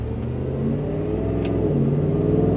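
A 1972 Ford Bronco Heritage Edition with a Coyote 5.0 V8 pulls away, its engine note steady and loud with a rising rev throughout, close by and with no talking.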